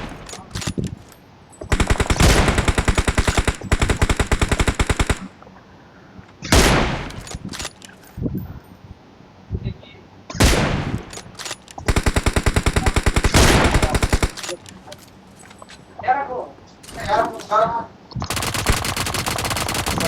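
P90 submachine gun firing in the video game BGMI: loud rapid automatic bursts of several seconds each, separated by short pauses, with quieter shots and movement sounds between them.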